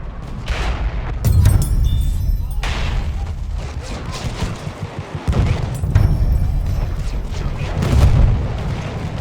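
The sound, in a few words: enemy machine gun fire in Battlefield 1 video game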